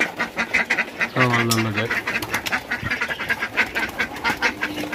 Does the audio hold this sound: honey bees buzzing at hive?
no